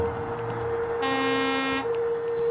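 A truck horn blares once for nearly a second, loud and sustained over a low road rumble, then cuts off.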